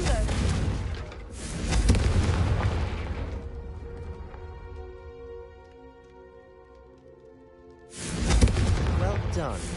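A Confringo spell bursts in Hogwarts Legacy as a loud, rumbling boom that swells, decays into a long ringing tail, then a second heavy blast erupts near the end; no talking.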